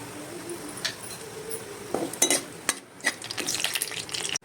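Whole spices, bay leaf, cinnamon and star anise, fry in hot oil in a kadai, giving a soft sizzle punctuated by clinks and scrapes of a spoon against the pan.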